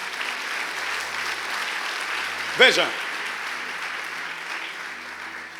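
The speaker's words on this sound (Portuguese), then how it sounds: "Aplaudo o Senhor, aplaudo o Senhor" A church congregation claps steadily, a soft, continuous wash of applause running throughout, with the preacher briefly speaking a single word over it midway.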